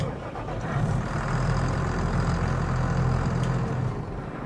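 A modded tractor engine in a farming video game, shown alongside a Massey Ferguson sprayer and a McCormick X7, runs with a steady low idling rumble that swells slightly in the middle and holds close and alone without talk.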